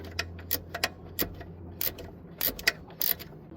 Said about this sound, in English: It is really quite the pain to loosen this bolt up.